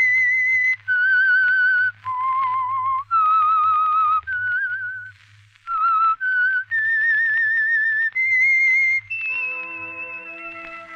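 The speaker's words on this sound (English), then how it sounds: "Let that whistle be your signal for the Signal Oil program, The Whistler" A melodic whistled theme signalling The Whistler, a Signal Oil mystery radio program, with a clear solo whistle carrying a tune over a low background hum, ending in a sustained orchestral chord.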